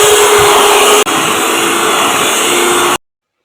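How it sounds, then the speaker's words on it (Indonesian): Electric mixer beating cake batter for a pineapple layer cake at its highest speed, a loud, steady close-up motor whir with a brief dip before running on and stopping abruptly. "Ini di mixer hingga lembut dan berwarna putih pucat, kurang lebih 8-10 menit. Mixer dengan kecepatan yang paling tinggi"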